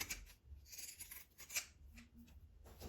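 Scissors snipping small notches into the rounded edge of a fabric patchwork phone holder being sewn, several quick close crisp cuts spaced unevenly.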